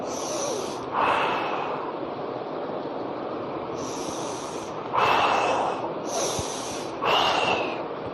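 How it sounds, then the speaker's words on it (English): Deep, deliberate breathing during a physiotherapy arm exercise, with four strong breath bursts around 1, 5, 6 and 7 seconds, close to the mic over steady room noise and no talking. "When open your arms, inhale. And where arms are coming to the body, exhale."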